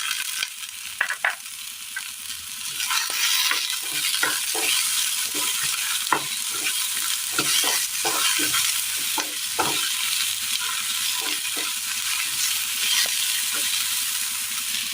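Green tomatoes added to wilting vegetables in a frying pan for a simple mezhukkupuratti curry give a loud, constant hiss, punctuated by frequent spatula taps and scrapes as they are stirred; faint voice now and then.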